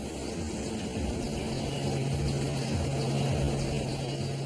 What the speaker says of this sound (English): the only helicopter in the world outfitted to fight high-rise fires